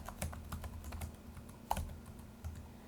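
Quiet typing on a computer keyboard while entering spreadsheet headers in Excel, a handful of soft, irregular key clicks up close with one slightly sharper tap partway through.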